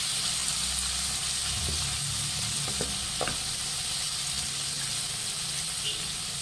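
Onions frying with salt in a pan for masala dosa filling give a soft, steady sizzle with a few faint stirring clinks, fairly quiet and continuous.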